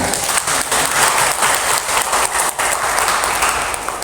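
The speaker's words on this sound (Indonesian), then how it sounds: "tepuk tangan" Audience applause at a foundation's speech event, dense sustained clapping from a crowd lasting the full stretch at steady loudness, with no voices standing out.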